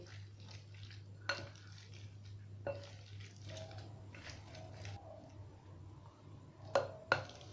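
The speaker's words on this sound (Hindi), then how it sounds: "आलू और मटर को मैंने अच्छी तरह से मैशर की मदद से मैश कर लिया है।" Boiled potatoes and peas being mashed with a masher in a pot, soft irregular squishing with a few sharp metallic knocks against the vessel, close and fairly quiet over a steady low hum.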